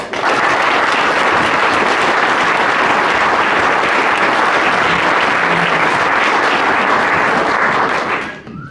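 Audience applause welcoming storyteller Bill Hillmann at a 2011 storytelling event: a full, steady wave of clapping from a crowd that holds strong for about eight seconds and then tapers off quickly.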